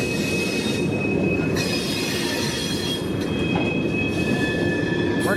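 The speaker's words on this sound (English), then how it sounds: "There's 112's train over on the other side." A freight train rolls past with steady loud wheel squeal, a continuous metallic screech over the rumble of the railcars, close and unbroken with no talk.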